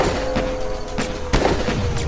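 Gunfire in an animated Hindi horror story about a police team under attack, sharp cracking reports punctuating a steady dramatic background tone, with one louder shot near the middle.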